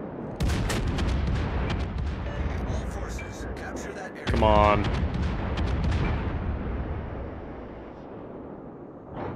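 The Yamato battleship's main guns fire armor-piercing shells in a naval video game with a single loud, deep boom that rumbles away, while a player speaks and the game's engine noise continues.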